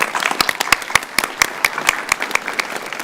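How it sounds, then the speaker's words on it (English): Applause from the audience at a county school board meeting: a smaller crowd clapping close by, with distinct individual claps in an uneven rhythm and no one speaking. "It's very kind in Marion County that you would clap for a tax collector."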